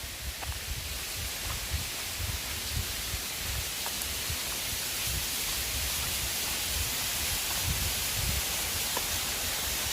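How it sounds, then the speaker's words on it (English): A roadside waterfall running beside and beneath a street, heard as a steady, full broadband rush of falling water that holds at an even, fairly loud level throughout. "Check out this waterfall."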